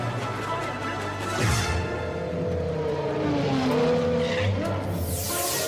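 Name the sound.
car speeding with tires skidding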